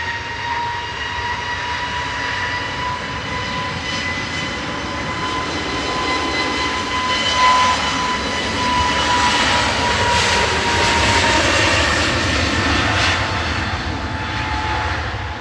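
Jet airliner departing Manchester Airport on flight 2029 to Lanzarote, a sustained loud engine roar with a high whine that swells and holds steady, heard alone without talk.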